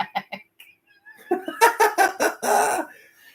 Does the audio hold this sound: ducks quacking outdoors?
yes